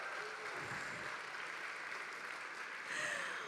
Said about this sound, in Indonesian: kita berikan tepuk tangan dong untuk kita semua